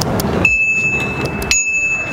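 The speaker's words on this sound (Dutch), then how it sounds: "er is een nieuwe bel, namelijk Ping, en die klinkt zo." A VanMoof S4 electric bicycle's electronic bell, called Ping, sounds two bright, clear electronic pings about a second apart, each with a short ringing tail, over a steady low background hum.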